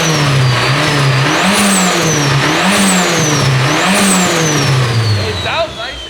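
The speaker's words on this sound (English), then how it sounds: "I really want to hear what the exhaust sounds like revved up" A Nissan S15 Silvia with a VVL engine revs repeatedly, rising and falling in several loud surges through the exhaust, close by and steady throughout.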